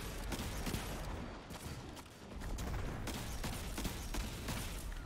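Gunfire in a shooter video game aimed at a Sunbreaker: a steady, dense barrage of shots with mechanical clatter, loud and continuous with a short dip midway, no talking.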